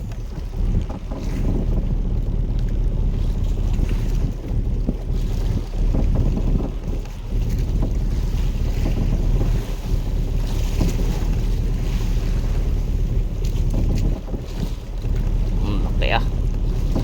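A ship at sea pushing through and breaking waves, heard as a steady loud roar of water and wind rumble throughout, with some gusty microphone wind noise.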